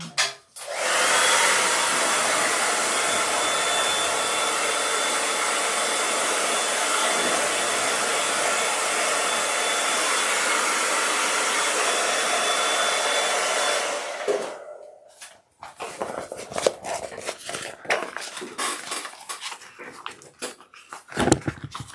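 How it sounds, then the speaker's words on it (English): A hairdryer blows heat on sewing material, a loud steady whooshing roar for about fourteen seconds before switching off, followed by irregular rustling and handling noises. "So I'm just grabbing my hairdryer over here real fast."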